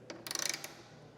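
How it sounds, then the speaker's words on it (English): A bolt tightened with a T50 Torx wrench while fitting a tailgate-lowering system on a 2021 Ford truck, a quick close-up run of about half a dozen metallic ratchet clicks lasting under a second. "tighten that bolt back down with your T50 Torx wrench"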